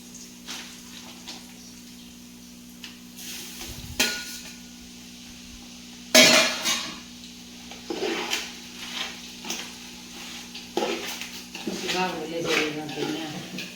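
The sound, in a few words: stirring gunda pickle mixture in a pot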